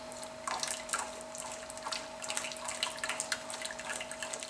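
Juice squeezed by hand from rhubarb pulp for syrup drips and trickles into a bowl in a steady, close, wet patter, with a faint constant hum underneath.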